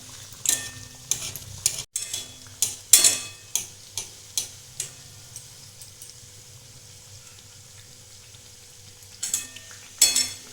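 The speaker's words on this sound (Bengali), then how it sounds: "প্যাটিসগুলো ভাজা হয়ে গেছে" Potato patties frying in a pan over a medium flame, with a soft sizzle under a series of sharp spatula scrapes and taps in a loose rhythm, then a quiet stretch before a few more clinks.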